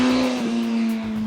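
A 2016 Suzuki GSX-S1000 ABS streetfighter motorcycle's engine holds a loud, steady high-revving tone under hard acceleration, close and continuous for a brief moment.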